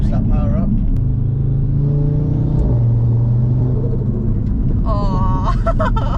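A 700bhp Audi RS3 rumbles loudly as it accelerates, a deep, sustained engine roar filling the cabin, while people talk briefly at the start and again near the end.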